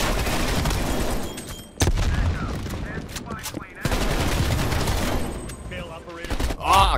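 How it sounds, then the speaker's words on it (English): An incoming artillery strike in Call of Duty Black Ops Cold War brings loud, dense bursts of gunfire and booms, with sharp dropouts between volleys and a voice talking over the din. "Hostile artillery targeting active. Artillery inbound."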